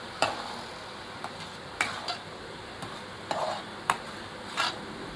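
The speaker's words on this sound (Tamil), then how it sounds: "இப்போ நம்ம ரவையை போட்டு கிண்டிக்கலாம்" Semolina (rava) for kesari is stirred in a pan, a spoon scraping and tapping against the metal in scattered sharp clicks at irregular intervals over a faint soft hiss.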